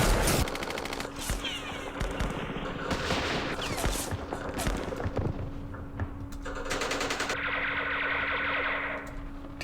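Machine gun fire rattles through a Vietnam War strategy game set at Dien Bien Phu, with dense bursts of rapid, echoing shots that break off and return, loud and close.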